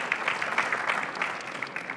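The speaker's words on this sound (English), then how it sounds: "Can we give them a nice round of applause before we get started here?" An audience at a conference panel session applauds, a dense steady patter of many clapping hands that gradually thins toward the end, heard from a moderate distance.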